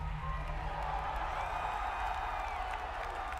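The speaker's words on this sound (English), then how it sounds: "They showed the teaser for Last of Us 2. And they ended the show. Listen to the crowd." A large crowd at a gaming event reacts to The Last of Us Part II teaser with distant, continuous cheering and clapping, a steady roar of voices heard faint and washed out, as though recorded from afar.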